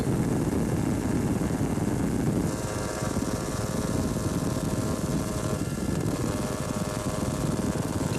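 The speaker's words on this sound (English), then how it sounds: "Two-stroke engine screams on this flat-out, high-speed run" A Swedish Husqvarna two-stroke off-road motorcycle runs flat out on a dusty Baja 1000 trail, its engine giving a loud, sustained, buzzing drone that holds steady throughout with only slight shifts in pitch.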